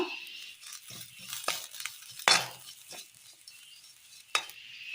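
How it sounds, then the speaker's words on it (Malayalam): Coconut roasting in a pan with ginger, fennel and garlic, a soft sizzle with scattered stirring scrapes and a few sharper utensil knocks against the pan, close and fairly quiet, no talking. "തേങ്ങ ഒരു ചെറിയ ഗോൾഡൻ കളറായി വന്നിട്ടുണ്ട്"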